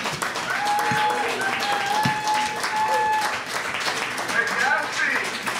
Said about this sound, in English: please, a big round of applause for our panel here tonight.